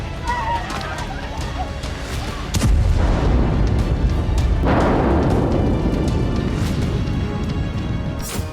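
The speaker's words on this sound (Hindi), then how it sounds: "बावजूद इसके आईडीएफ की एयर स्ट्राइक जारी है" Heavy booms from air strikes in Gaza during the Israel–Palestine war, loud rumbling blasts at close to middle distance, one strong impact around the third second followed by sustained roaring debris and rumble.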